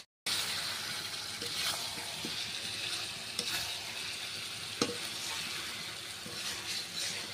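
Goat meat sizzling and being stirred in a pan as it is sautéed for kosha with a little stock added, a steady frying hiss with occasional scraping clicks, close and alone without talk.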